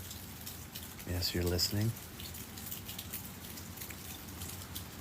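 Steady rain falls during a storm as a soft, even hiss that runs throughout, with a person speaking briefly over it.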